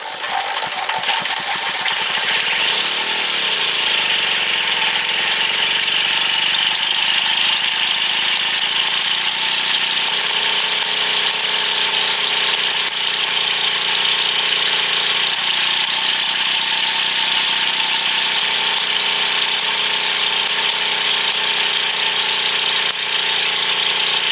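A rebuilt VAP4 auxiliary engine struggling to start, giving a loud, continuous, rough mechanical drone with shifting tones that runs the whole time without settling into a clean idle.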